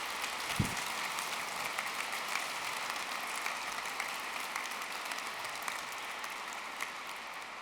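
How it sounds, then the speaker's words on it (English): Steady, dense applause from a university graduation ceremony crowd fills the whole stretch, even and sustained without pauses. "let's give them a big round of applause for our audience, your families"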